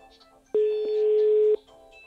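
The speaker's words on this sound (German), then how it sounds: "Ich rufe einfach mir zu Hause an und spreche jetzt zum Anrufbeantworter." Phone-call tone played through an Aukey SK-M3 Bluetooth speaker, a single steady electronic beep lasting about one second, loud and close, with a brief click at its start and faint background tones around it.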